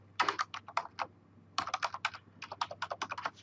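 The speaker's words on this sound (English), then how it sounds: "click Control Delete" Computer keyboard typed on at a Windows server during DNS service configuration, with three quick bursts of rapid clicking keystrokes separated by short pauses, close and clear over a low steady hum, no talking.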